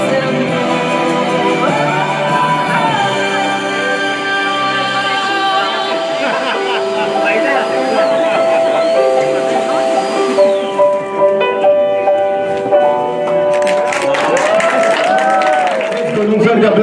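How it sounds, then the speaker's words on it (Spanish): A crowd claps and cheers over loud music at a quinceañera, with whoops and shouts rising near the end. "Esos aplausos no trajeron porra, ok, que se escuchen esos gritos."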